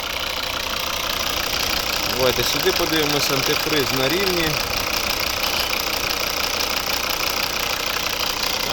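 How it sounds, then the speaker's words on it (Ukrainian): A 2012 Volvo V50 2.0 D3 diesel engine idles steadily with a low, rough rumble throughout while someone talks over it briefly. "Ось робота двигуна."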